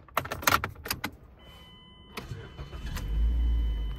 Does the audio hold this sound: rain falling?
no